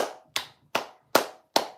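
Five sharp, evenly spaced hand claps from a single person, close and crisp, each with a short decaying tail and silence between them.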